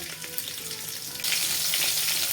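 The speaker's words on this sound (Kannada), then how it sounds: "ಈಗ ಮೂರು ಟೇಬಲ್ ಸ್ಪೂನ್ ಎಣ್ಣೆ ಹಾಕ್ಕೊಂಡಿದ್ದೀನಿ ಎಣ್ಣೆ ಕಾಯಿದ ಮೇಲೆ ಹಸಿಮೆಣಸಿನ್ಕಾಯಿ ಹಾಕ್ಕೊಳ್ತಾ ಇದ್ದೀನಿ" Green chillies go into hot oil in a pan, a loud, dense sizzle close by that jumps sharply louder partway through and then keeps crackling steadily with no talk.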